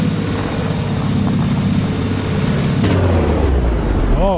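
Cummins 600 truck engine from a sound mod in American Truck Simulator, a loud steady diesel rumble with a sharp hiss of air brakes near the end, heard alone without talk.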